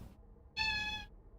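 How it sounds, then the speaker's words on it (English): A pet cat gives one clear, close meow lasting about half a second, surrounded by quiet room noise and no talking. "So my cat is now circling me and asking for pets."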